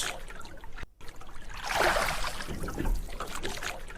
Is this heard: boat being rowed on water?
yes